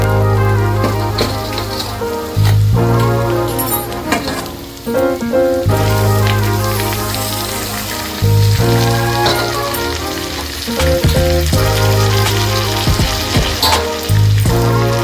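Mutton pieces for gongura mutton frying in a pan, a steady close sizzle and crackle running loud throughout, with a tonal hum or music-like layer underneath and no talking.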